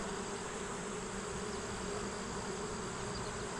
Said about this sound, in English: There's just too many gold bees.